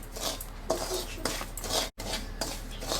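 Semolina roasts in a pan for rava laddu while a utensil stirs and scrapes the metal in close, brisk strokes, with clinks against the pan and a brief break near the end.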